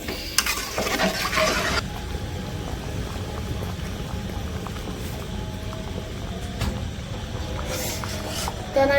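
Rice and moong dal roast in a pot for khichuri, a low bubbling sizzle with intermittent spoon scrapes and clinks against the metal, close and steady, with a brief louder burst near the end.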